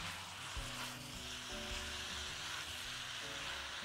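Onions and red, yellow and green bell peppers sautéing in a pan, a soft continuous sizzle with low rumbling scrapes as they are tossed, fairly quiet and steady without speech.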